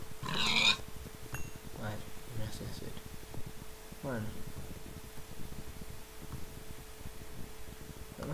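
A pig in a video game, Hardcore Mode, gives a few short grunts and snorts over a low steady hum, and someone talks over parts of it.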